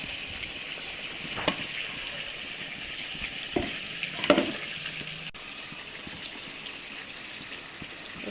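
Marinated chicken masala frying in a pan for a Mughlai chicken changezi, a steady low sizzle throughout with a few louder splashes and a brief burst near the middle as the mixture hits the hot oil.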